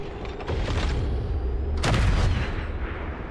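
Loud game gunfire booms out in a couple of heavy blasts over a dense, rumbling battle din, with no voices.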